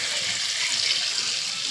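Water poured into a pan while cooking pancit bato with chicken, a steady close hiss and trickle of liquid running without pause.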